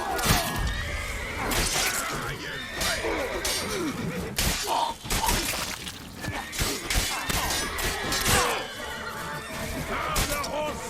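Horse in The Witcher 3 whinnying and neighing loudly and repeatedly amid clattering hooves and crashing thuds, with spoken voices mixed in.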